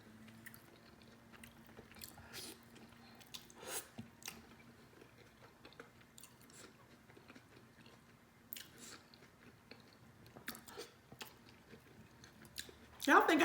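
Close, quiet chewing of seafood during a mukbang, with soft wet bites and crunches scattered over about thirteen seconds and a louder burst at the end.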